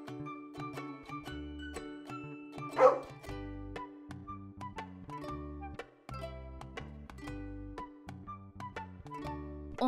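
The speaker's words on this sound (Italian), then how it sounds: "un cane," A dog barks and yips several times amid a bouncy musical backing, with one louder bark standing out near the middle.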